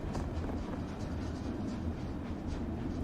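Rumbling, steady roll of a train car in This Land Is My Land, a low continuous clatter and drone throughout with no voices.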